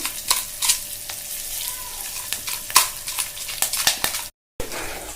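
Curry leaves and asafoetida crackle and sizzle in hot tempering oil, close up, with sharp pops and spatters over a steady fry and a brief dropout near the end.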